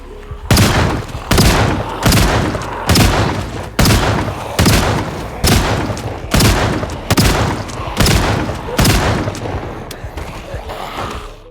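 Pistol shots fired at zombies in a survival video game, roughly a dozen evenly spaced loud bangs about every 0.8 seconds, each with a short ringing tail.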